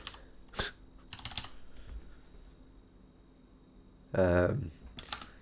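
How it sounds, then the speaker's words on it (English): Scattered keystrokes on a computer keyboard at a Linux TTY console, a few quick clicks and short runs of taps, with a brief burst of speech near the end. "Now I'm typing in an actual TTY"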